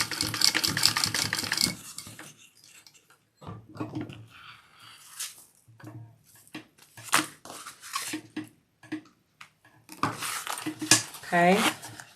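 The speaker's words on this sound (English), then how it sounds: "Now we're going to sew this side." A sewing machine stitches a fabric Ellie Wallet along its zipper tape, in two dense rapid bursts at the start and near the end, with someone talking between and over the runs.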